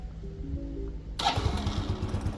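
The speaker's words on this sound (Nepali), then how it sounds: "1 ट्याप स्टार्ट हो कि अन गरेँ" A quiet, hushed background, then a scooter's one-tap electric start catches the engine suddenly and it settles into a steady, close, buzzing idle.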